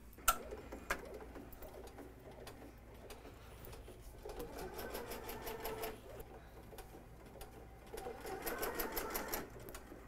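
Embroidery machine stitching a placement line on fabric for a stuffed toy, a faint, rapid needle chatter rising and falling over about ten seconds, quiet and close with light background noise.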